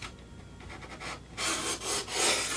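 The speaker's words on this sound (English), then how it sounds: "here's the Veritas, on the end grain, and we'll go straight across it because of the low angle" A Veritas No 1 bevel-up bench plane cutting across wood end grain, giving a few short rasping strokes that grow louder and harsher toward the end, close with no talk.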